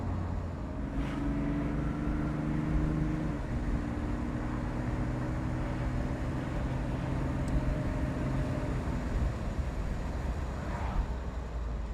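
A 1998 Aston Martin DB7 Volante convertible is driven on the road, its engine droning steadily with shifting tones as it accelerates, heard from inside the car with wind noise and no talking.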